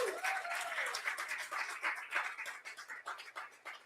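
Applause breaks out in a church congregation, a steady patter of many hands clapping at moderate distance, with a brief cheer or whoop rising over it near the start.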